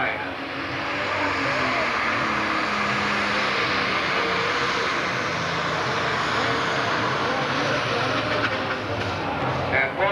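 A 5,500 lb super stock pulling tractor roars loudly down an Evansville, Indiana pull track, a dense, steady engine drone with a crowd and an announcer's voice underneath, the power holding throughout.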